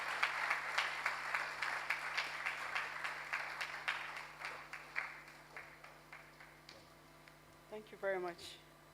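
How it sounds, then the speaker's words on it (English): A ceremony audience in Nigeria claps for the Minister of Finance with a steady, rhythmic round of applause that gradually thins over seven seconds, then a voice briefly speaks as it ends. "Please give her an encouraging applause."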